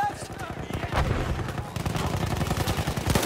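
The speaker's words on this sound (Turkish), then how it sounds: "Bak yine pompalıyla vurdu." Shotgun fire in the World War I shooter Battlefield 1, a dense run of sharp gunshots and scattered battlefield shots with speech mixed underneath, loud and continuous for a few seconds.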